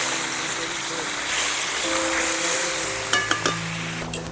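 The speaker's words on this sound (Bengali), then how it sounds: "মাংসটাকে, দিয়ে একটু নাড়িয়ে নেব।" Duck meat is tipped into hot oil with browned garlic in a pressure cooker, giving a loud, even sizzle, then a few sharp scrapes and knocks as it is stirred.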